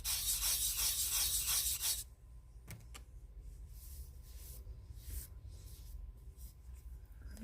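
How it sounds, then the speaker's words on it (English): Sanding the edges of a cast resin piece smooth, a loud steady rasping rub for about two seconds, then fading to quieter background with faint scattered scrapes. "And I'm just sanding the edges down"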